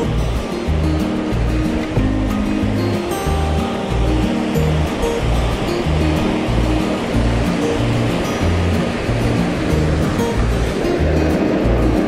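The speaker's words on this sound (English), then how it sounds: "we can hear Gypsum Creek Rapids just up in front of us." Whitewater roar of Gypsum Creek Rapids on the San Juan River just downstream of the Mexican Hat boat launch, a loud, steady rushing surge close ahead with a low rumble, heard alone throughout.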